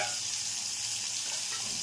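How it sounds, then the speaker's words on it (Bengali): Aar fish frying in hot oil in a wok, a steady, dense crackling sizzle that holds evenly throughout without pause, close and moderately loud, no voices. "এই দেখো মা মাছ ভাজতে দিয়ে দিয়েছে"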